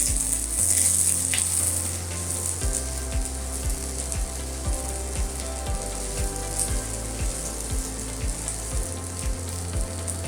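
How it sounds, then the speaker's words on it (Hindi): Raw vegetables for veg biryani frying lightly in oil, a continuous close sizzle with a low background hum and faint stirring, no talking. "ये रॉ सब्ज़ी है जो मैंने इसमें डाली है, हल्की सी इसे फ्राई कर लेंगे तेल में।"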